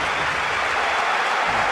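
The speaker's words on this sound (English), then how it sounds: "The crowd doing their bit in this wonderful arena." Steady, dense stadium crowd roar from a football match in the video game Winning Eleven 2009 on PS2, a broad continuous cheering wash filling the whole stretch at even loudness with no speech over it.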